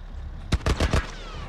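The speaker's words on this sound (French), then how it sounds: "Un genre de tourelle militaire" A military vehicle's mounted turret fires in The Last of Us, a quick rapid burst of four loud, heavy shots followed by a fading tail.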